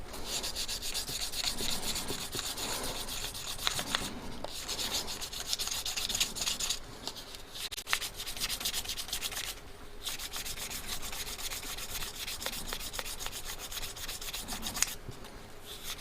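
Wood being sanded by hand with fine 400 grit sandpaper, a steady close scratchy rubbing that runs on with brief pauses and no talk.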